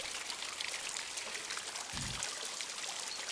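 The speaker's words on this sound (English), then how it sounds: "Turn off this water, it's very loud." Running water tap in the video game Botany Manor, a steady, loud hiss of flowing water with a brief low thump near the middle.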